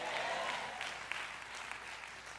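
A church congregation claps during an Easter Sunday service, a soft, distant wash of clapping that holds steady and slowly thins out.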